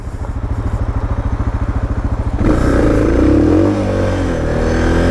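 Suzuki Gladius motorcycle on a gravel driveway, its engine pulsing in a steady low chug before revving up harder as the rear wheel loses traction, close and loud with no talk.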